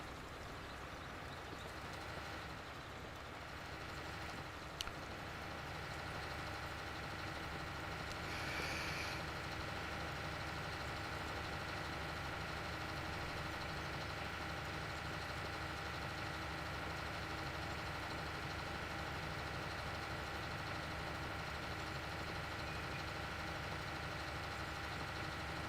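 Tractor engine idling in Farming Simulator 19, on a Brazil farm map with a fertilizer tank attached, giving a steady, continuous mid-pitched hum that holds evenly for the whole stretch with no talk over it.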